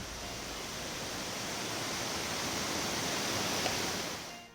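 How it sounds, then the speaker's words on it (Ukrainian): Steady, dense roar of a waterfall dropping from a great height in the Carpathian Mountains near Volovets, Ukraine, a broad unbroken rush that stays loud and even throughout. "Вода падає з великої висоти, утворюючи гучний шум."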